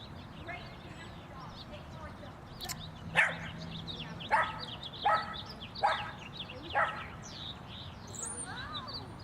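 Small dogs bark and yip in a string of short, moderately loud bursts at mid distance, with background noise underneath and faint bird calls.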